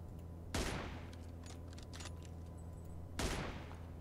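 Gunfire in the shooter game PUBG Mobile: two sharp, loud shot bursts about three seconds apart, with faint clicks and a steady low game hum between them.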